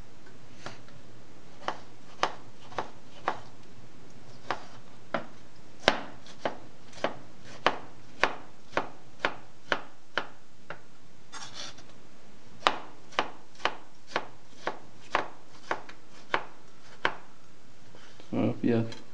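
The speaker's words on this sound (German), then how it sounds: "Eine Fleischtomate, große, geschält. Schneiden wir dünn, muss man schneiden." A knife cuts thin slices from a large peeled beefsteak tomato on a board, producing a steady run of sharp, crisp taps close up that pause briefly midway and then continue.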